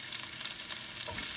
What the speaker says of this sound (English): I'm going to put the peppers in the pan, get those sizzling away